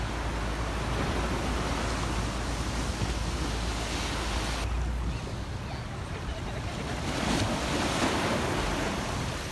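Waves washing along the San Francisco waterfront, a broad, steady rushing surf mixed with heavy wind buffeting the microphone, loud and continuous throughout with no clear talk.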